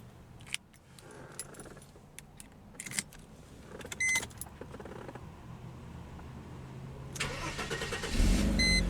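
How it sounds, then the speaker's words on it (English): A 1997 Mercedes-Benz SL 320 starting from inside the cabin: keys jangle and small clicks come first, then the engine cranks and catches near the end, with a loud, steady idle rising over the last second. "let's go ahead and start the engine"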